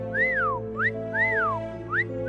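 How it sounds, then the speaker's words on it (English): Three-note whistle heard on a recording left outside a tent, a rising-then-falling pitched phrase that repeats twice in a clear, steady rhythm over a low humming background. "I heard the 3-note whistle"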